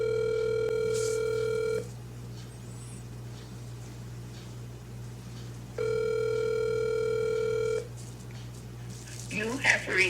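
A phone call rings back twice through the handset as two long, steady tones separated by a silent pause, with a faint hum underneath and a brief voice at the end.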